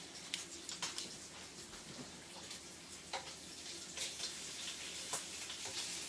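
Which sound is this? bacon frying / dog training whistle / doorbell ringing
bacon frying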